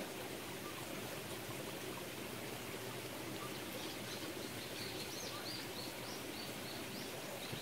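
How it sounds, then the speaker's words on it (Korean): Steady rushing of a mountain stream, broadband and continuous, with faint bird chirps above the flowing water and no voices. "계곡에 와서 물소리를 들으면 안정이 돼요."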